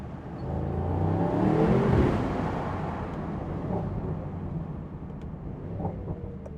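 2024 Mercedes-AMG GT engine heard with the windows down as it downshifts in a tunnel, a loud sustained rumbling roar that swells near the start and keeps booming, echoing through the enclosed space.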